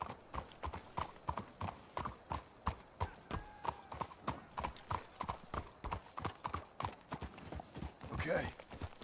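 Horses' hooves clip-clop steadily in Red Dead Redemption 2, a close, rhythmic run of hoofbeats with a brief whinny near the end, while characters talk over it.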